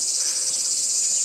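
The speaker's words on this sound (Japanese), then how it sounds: "セミの鳴き声が" Cicadas sing on a hot day at Kannon-ji temple in Akiha, Niigata, a loud, steady, high-pitched buzzing drone that fills the whole moment without a break, with no voices.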